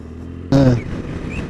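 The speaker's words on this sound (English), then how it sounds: "there's bikes coming up behind us, tons of bikes on the top" Motorcycles riding in a large group on the M60 motorway around Manchester, heard as a sudden loud engine roar that swells in briefly and then fades into steady road rumble.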